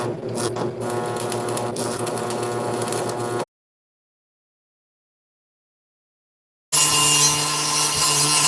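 Welding in two close bursts: a steady, harsh electrical buzz for a few seconds, then complete silence, then a louder, brighter buzz resuming.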